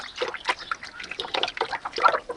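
Hot water splashes and trickles steadily while a single-flavour cone ice cream machine is washed, a close, busy wet sound with irregular bursts and no talking over it.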